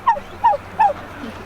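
Three short, evenly spaced honking calls from rescued turkeys, close and fairly loud, each a quick nasal burst with a falling tail, over a low background hum.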